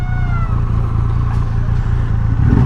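Triumph Rocket 3R 2500 cc motorcycle engine idling loud and close in sport mode, a dense steady low rumble with a slight swell near the end.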